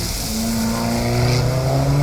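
An Alfa Romeo 4C engine holds a high, steady rev with a strong, sustained tone that climbs slightly, loud and close, with no talk.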